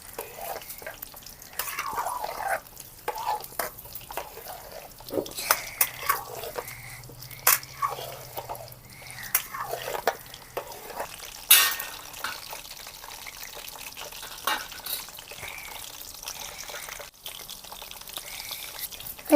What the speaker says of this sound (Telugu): ఉసిరికాయలు తిప్పుకుంటే వేయించుకోవాలి